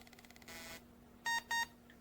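A 386 motherboard powering up gives two short, bright electronic POST beeps in quick succession over a steady low hum, after a brief burst of fan-like whoosh.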